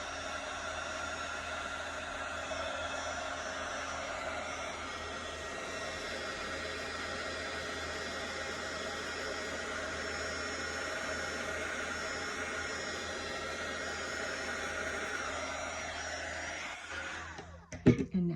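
A heat embossing tool blows hot air over a card with embossing powder, a steady loud whooshing fan hum held for about seventeen seconds at close range before it cuts off with a brief handling rattle, no voices.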